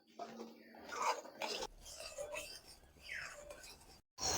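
A spoon stirs a thickening milk mixture with milk powder in a pan, producing soft, irregular scraping and rubbing strokes with a few light metallic touches, fairly close and quiet.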